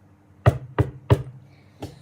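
Knocking on a wooden cottage door, three close, loud, hollow raps followed by a fourth softer one after a short pause.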